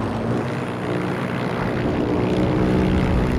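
Steady droning propeller airplane engine in the Heroes & Generals video game, loud and continuous with a gradually building hum, no talk over it.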